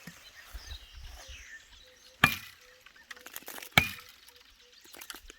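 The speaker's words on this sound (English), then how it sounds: "right now I'm just going to cut this one for you, so maybe you can take a step back and we'll cut it down" Plant stem being cut down on a plantation, with two sharp, loud chopping cracks about a second and a half apart over faint outdoor background noise.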